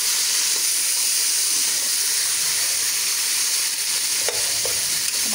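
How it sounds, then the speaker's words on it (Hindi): Tomatoes frying in oil together with meat for a wedding-style aloo gosht, a steady close sizzle and hiss running unbroken throughout, with a few faint clinks of stirring near the end. "इसमें हम टमाटर डाल देंगे 3 अदद और इनको भी हम फ्राई कर लेंगे इसी गोश्त के साथ।"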